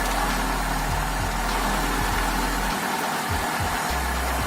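A car engine converted to run on LPG or CNG runs with a steady low drone that rises in pitch as the revs climb on its own, loud and close, with no voices.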